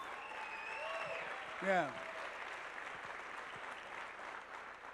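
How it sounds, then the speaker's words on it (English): Audience applause at a large motivational convention, a soft background wash of clapping with a voice talking and a brief whoop over it. "give Rick a round of applause"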